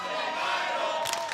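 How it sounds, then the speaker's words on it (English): Large wrestling crowd at the Crockett Cup, a dense sustained murmur and roar of many voices at fairly even loudness, with a brief sharper burst near the end. "The crowd is stunned. Listen to it."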